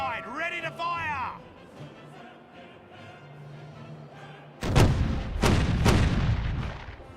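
Ship cannons fire a broadside in the pirate video game Caribbean Legend: Age of Pirates, several deep booming shots in quick succession, loud and close, after a shouted command and under game music.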